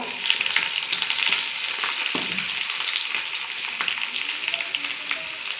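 Sliced onion frying in hot oil with mustard seeds and curry leaves, a dense continuous sizzle with occasional stirring scrapes, close and steady with no voices.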